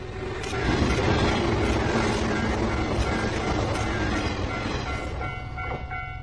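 A train rumbles steadily past on the rails, loud and close, with a dense roar and faint rhythmic clacking that eases slightly at the end.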